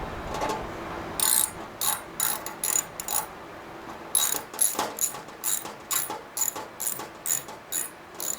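A ratchet tightens a bolt on an RV light in repeated bursts of rapid clicking, close and distinct, with short pauses between strokes and no talking.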